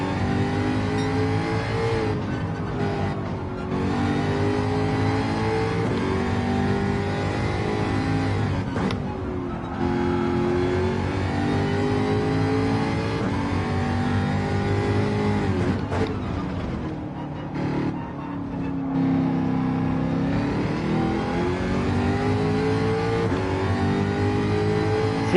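A Jaguar race car engine in Gran Turismo 7 drones steadily through a race, its tone rising and falling with shifts and acceleration, with brief dips between gears.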